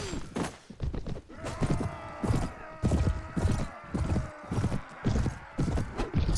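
Horse hooves clip-clopping at a steady gallop in the video game Mount & Blade: Warband Viking Conquest, rhythmic thudding beats over a busy background of clashing and ambient game noise.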